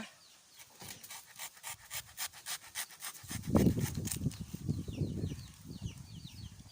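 A hand saw cuts through a banana stalk with steady back-and-forth rasping strokes, growing heavier and denser partway through as the blade bites deeper.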